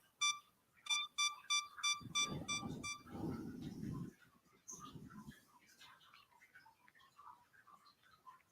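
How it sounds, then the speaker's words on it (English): A camera's 10-second delay timer beeps in a fast, evenly spaced run of sharp electronic tones, with rustling and low handling noise underneath, then quieter faint chirps trailing off. "You hear the beep?"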